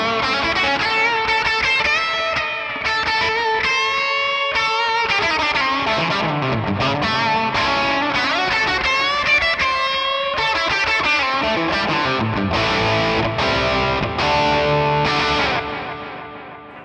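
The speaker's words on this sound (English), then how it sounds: "Now let me turn the delay that I used." Electric guitar played through a 1967 Sound City amp with tape echo delay, distorted sustained notes and bends trailing into spacey repeats, loud and alone.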